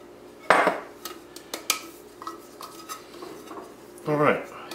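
Flour shaken around inside a metal cake tin for a mini chocolate birthday cake, giving a sharp clatter at the start, a few scattered taps and rattles, then a closing burst of rattling, close and fairly loud.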